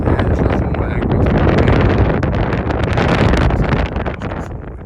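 Wind buffets the microphone outdoors beside a 1976-1983 Jeep CJ5 tub, a heavy, continuous low roar and rumble that stays loud across the whole stretch with no talking.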